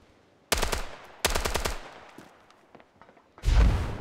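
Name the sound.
gunfire in a video game, Standoff 2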